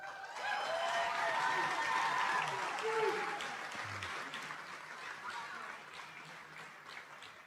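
Applause from a high school commencement audience for the class of 2023, a dense wave of clapping with a few cheers that swells, then gradually thins and fades.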